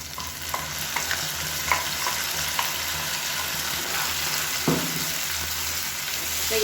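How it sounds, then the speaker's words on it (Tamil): Onion, garlic and dried red chillies fry steadily in a pan, a continuous sizzle broken by a few sharp stirring scrapes and clinks, with a louder clatter near the end. "வெங்காயம், பூண்டு, வத்தல் எல்லாமே நல்லா முறுமுறுன்னு வதங்கிடுச்சு பாருங்கள்"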